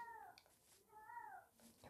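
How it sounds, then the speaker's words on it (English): A cat meows twice in a Minecraft game session, drawn-out wavering cries with a short pause between them, fairly clear and not covered by talk. "There's a cat crying outside."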